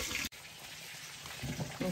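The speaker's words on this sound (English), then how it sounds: "You just wanna wash your bananas." Tap water runs steadily into a sink as bananas are washed under it, a short break near the start, then continuous gushing with some splashing toward the end.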